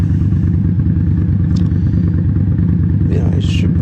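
Motorcycle riding along First Avenue in a city, a steady low engine drone with road rumble throughout, a brief rise in pitch near the end, and a voice speaking over it.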